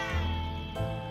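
A cat meows once after being tapped in the video game 60 Seconds Reatomized, a short tonal call heard clearly and alone over a steady game background hum.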